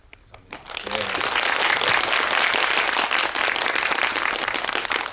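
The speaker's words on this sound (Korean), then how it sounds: "이 두 분에게 되게 박수를 쳐드리고 싶은 생각이 좀 들었습니다" Steady, dense applause from a cinema audience at a post-screening guest talk for a film at a Megabox multiplex, rising within the first second and sustained evenly to the end.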